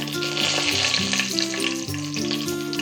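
Five cardamom pods, several cloves and two bay leaves sizzle in hot oil for polao, a dense, continuous frying hiss under background music.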